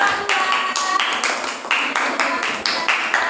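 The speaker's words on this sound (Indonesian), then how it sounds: "Tepuk tangan untuk kelompok 2." Several short bursts of clapping in a quick, uneven rhythm, fairly close and clear, with no talking over them, applauding a student group in a classroom.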